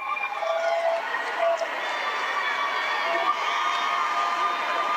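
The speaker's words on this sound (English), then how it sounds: "the cheer across the way you can hear for the West Lincoln Lady Bears" A crowd in a gym at a girls' state championship basketball game cheers for the West Lincoln Lady Bears, a sustained roar of voices from across the court with a few shrill shouts, steady and moderately distant.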